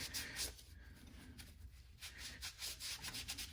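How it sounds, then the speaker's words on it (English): A cleaning towel scrubs a tool in steady, close back-and-forth rubbing strokes, soft and continuous throughout with no talking. "Takes a little more scrubbing, but"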